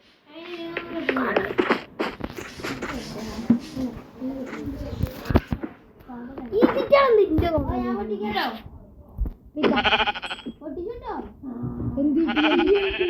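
Repeated Minecraft sheep bleats, wavering and nasal, sound close by with speech mixed in throughout; several calls overlap in a busy, continuous stretch.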